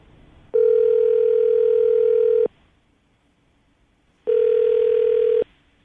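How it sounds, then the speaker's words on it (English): Telephone ringback tone heard while calling someone, a steady electronic tone in two long bursts, the first about two seconds and the second shorter, separated by a pause of near silence, clear and alone with no voices. "We're going to call him right now and see if we can get him on the phone."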